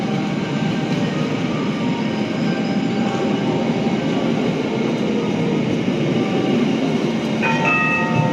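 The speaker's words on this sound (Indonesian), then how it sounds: "jam setengah 1 tepat tiba di stasiun Kebumen sesuai jadwal." KA Sawunggalih intercity train pulling into Kebumen station, a loud continuous rumble of wheels on rails heard from inside the carriage, with faint squeals and a brief brake tone near the end.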